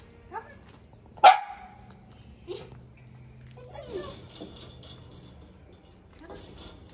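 A puppy on a training walk gives a sharp single bark, then a couple of softer yips and rustling, with faint background noise and brief murmurs around it.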